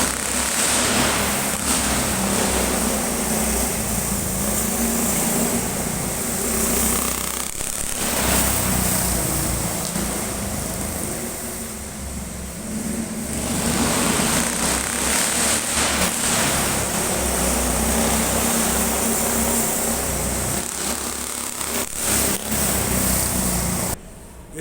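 Steady engine drone with revving motors, continuous and fairly loud throughout, from several motorcycles running nearby at the Lyon Eurexpo two-wheeler show, with no speech.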